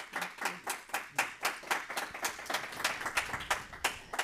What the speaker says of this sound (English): Let's please give her a round of applause again.